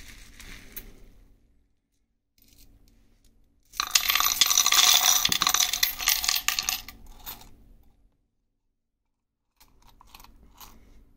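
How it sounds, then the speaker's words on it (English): Coins are poured into a tray box for coin storage, giving a burst of metallic clinking and jingling about two seconds long. Quieter handling noises come before and after it. "And let's just load this up with some coins."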